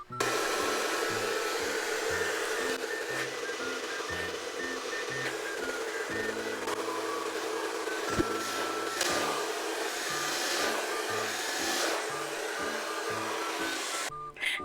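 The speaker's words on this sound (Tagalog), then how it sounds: "So, ayan, yung dumating pala nating parcel is yung blower." A handheld hair blower dryer runs continuously and close, a steady loud whoosh with a constant motor hum for the whole stretch, stopping abruptly at the end.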